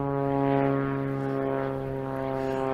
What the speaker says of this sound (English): there's a lot of planes flying rather low down here